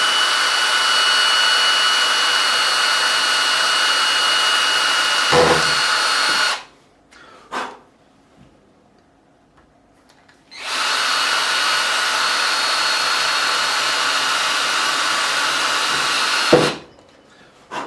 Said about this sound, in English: I'm going to drill here right next to the first fret.